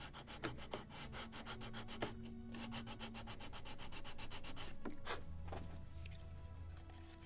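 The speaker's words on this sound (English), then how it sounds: "Just a little more sanding here and angle." Sanding a wooden plank for a model ship of the 1776 gunboat Philadelphia, a faint, continuous scratchy rubbing with repeated short strokes close by.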